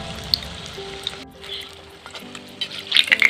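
Boiled cauliflower fritters frying in hot oil over a gas flame: a close, steady sizzle with scattered sharp crackles and pops that grow busier toward the end.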